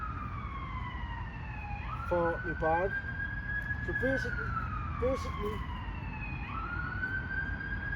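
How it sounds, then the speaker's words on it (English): An ambulance siren wails steadily as it passes along a main road beside woodland, its rising and falling tone running through the whole stretch while someone talks close by. "there's an ambulance going past because I'm in the woodland next to the main road"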